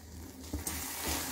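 A spoon stirs a thick orange barfi milk mixture in a pan, giving a soft continuous scraping and faint sizzle with a couple of brief knocks, close and without voices.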